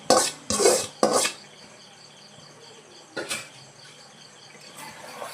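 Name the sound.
chicken added to a pan and stirred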